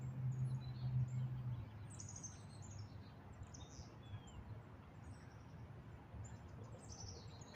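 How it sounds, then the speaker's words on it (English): Birds chirp outdoors by a riverside, with scattered short tweets and calls that are fairly faint and distant over a low background hum. "I'm hearing the birds chirp. Hope you can hear that."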